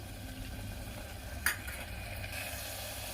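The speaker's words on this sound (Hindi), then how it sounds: "बिल्कुल तेल छोड़ने तक मैं इसे चलाऊंगी" Masala for a Bihar-style green peas godla sizzles in oil in a pan as a spoon stirs it, with a steady frying hiss and a single sharper scrape of the utensil midway.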